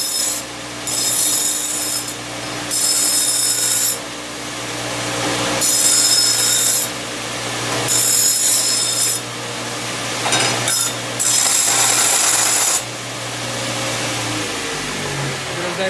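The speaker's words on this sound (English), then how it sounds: "Just on the belt sander here. Just get rid of the burrs on the outside" A belt sander grinds burrs off the outside of freshly cut exhaust tubing in repeated loud passes, each a few seconds long, with a steady motor hum underneath between contacts.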